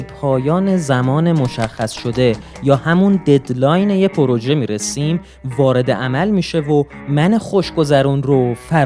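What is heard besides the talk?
No distinct noise like a dog, phone or traffic.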